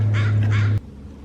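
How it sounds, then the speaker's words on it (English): Two harsh, close caws from crows in quick succession, over a steady low hum that cuts off abruptly afterward. "got some friendly crows saying hi"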